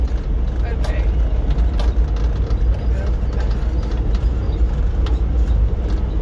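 A 1966 Ford F-100 pickup truck engine rumbles loud and steady at close range while the truck drives during a lesson, with a dense low drone throughout.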